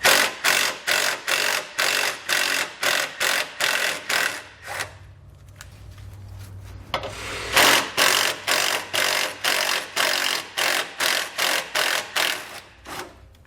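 A ratchet backing two 8mm bolts out of the frame rail of a 2011 Ford Edge, heard as loud, close bursts of rapid clicking, then a brief pause over a low hum before the clicking resumes steadily.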